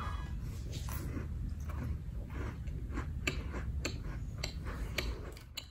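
Crisp crunching bites and chewing of a round, flaky vegan pineapple-filled pastry, close to the mic, with repeated sharp crackles over a low steady background.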